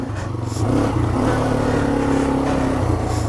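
A Yamaha TW200 motorcycle engine revs up under throttle, a close, loud single-cylinder drone that climbs after a short idle and holds steady, with wind noise over it.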